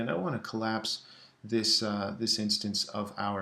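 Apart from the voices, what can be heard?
No distinct noise like a dog, phone or traffic.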